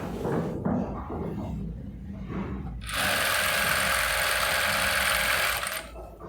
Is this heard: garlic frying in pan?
no